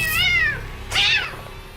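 A cat in a Hindi horror movie meows twice in quick succession, the second cry higher and sharper, loud and close with no talking over it.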